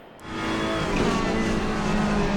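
A Ferrari race car in a racing game on an esports setup, its engine rising to a loud, sustained high-revving roar at close range.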